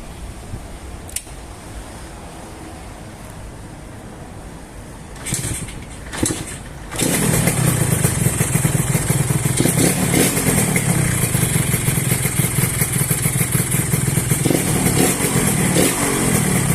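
Quiet background with a few clunks, then a 1980s Yamaha RXS135 motorcycle engine starts and runs loud and close, its rough, buzzy revving sustained to the end.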